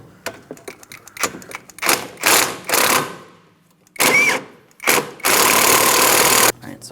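Strut mounting nut on a 2004-2008 Pontiac Grand Prix rear strut being loosened with a 16mm wrench: a run of quick ratcheting clicks followed by several loud, sustained bursts of mechanical whirring, close and broken by short pauses.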